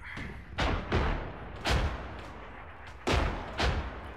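Artillery fire in ArmA 3, five or six heavy booming impacts with rumbling tails that come at irregular intervals over a steady low battlefield drone, fairly loud and close.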